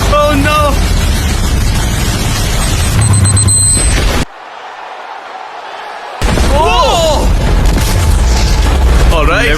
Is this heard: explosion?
yes